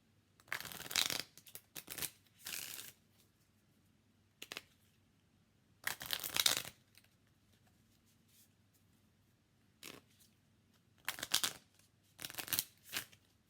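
Oracle cards are shuffled in several short, crisp bursts of riffling and flicking, separated by quiet pauses, heard up close with no talking.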